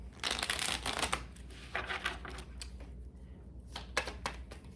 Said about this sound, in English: let's get a good shuffle for Gemini.